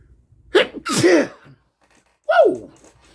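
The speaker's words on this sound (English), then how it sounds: "Y'all know I always sneeze 3 times for the set." A man sneezes three times up close: two explosive sneezes in quick succession, a short quiet gap, then a third loud sneeze, each with a sharp intake and burst of breath.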